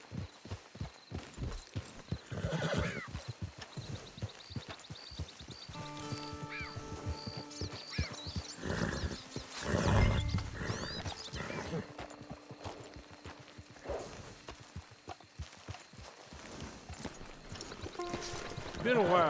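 A horse in the video game Red Dead Online, hooves clopping in a steady walking rhythm with a neigh partway through, moderately close under game music and spoken dialogue.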